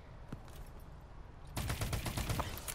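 Rapid automatic gunfire in the shooter game Call of Duty Advanced Warfare: quiet at first, then a dense, loud burst of overlapping shots from about halfway through that continues to the end.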